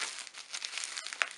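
Individually wrapped plastic packaging from a Korean merchandise haul crinkling up close, a quick run of bright rustles and crackles with a sharper crackle near the end.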